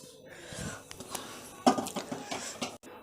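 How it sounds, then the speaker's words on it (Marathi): Roasted sesame seeds tipped from a kadhai into a metal plate for til chikki, giving a short run of light rattling and scraping clinks, with one sharper clatter midway, close and moderately loud. "आता हे तीळ मी ताटामध्ये काढून घेते."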